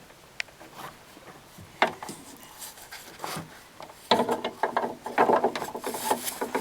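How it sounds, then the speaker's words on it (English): Pliers slide onto a reverse-thread screw and turn it, giving scattered scrapes and clicks of metal that build into louder ratcheting, grinding rubs toward the end, close up with no voices. "Now slide the pliers in like this."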